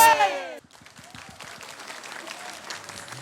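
A village audience applauds at a Balinese quiz show in Desa Demulih, Bangli, a steady patter of many hands clapping at moderate distance after a loud burst of voice at the start.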